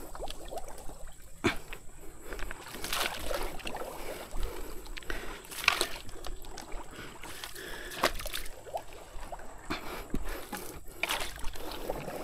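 A small one-person boat moving on water, with soft sloshing and wooden knocks from oars or hull over a steady wash of outdoor noise.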